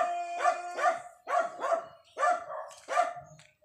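A dog barks repeatedly nearby, paired barks in a loose rhythm of about four bursts, with quiet gaps between them.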